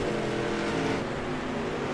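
A street stock race car roars hard as it accelerates off the corner on an oval track, a steady loud engine drone held throughout.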